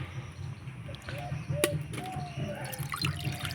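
Water poured from a bowl into a cooking vessel makes quiet splashing, trickling and dripping sounds over a low background hum.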